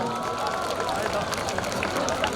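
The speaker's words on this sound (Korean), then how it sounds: "박수 부탁드리겠습니다." Student audience at Kyonggi University's 2019 campus festival applauds during a free-speech session. Dense, steady clapping fills the clip with a crowd murmur beneath it.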